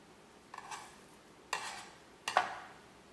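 A knife scores raw beef short ribs on a cutting board for kalbi, making three short, quiet scraping strokes spaced about a second apart.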